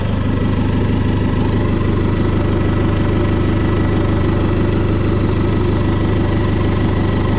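A Renault Ulysse car engine idles steadily after a turbo install, a continuous near mechanical drone with a faint whirring bearing noise running under it, no talk.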